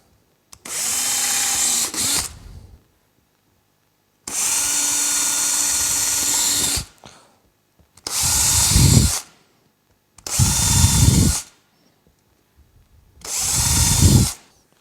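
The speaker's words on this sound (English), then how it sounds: "Drill out each corner." A power drill whirs in five separate bursts of a second or two each, drilling out corners on a Ski-Doo REV snowmobile for an intake install, with short silent pauses between, close and steady.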